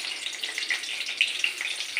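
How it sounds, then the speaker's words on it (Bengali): A dried red chilli and a bay leaf temper in hot oil for potato dum, giving a faint, continuous sizzle sprinkled with light crackles. "একটা শুকনো লঙ্কা ফোড়ন দিলাম"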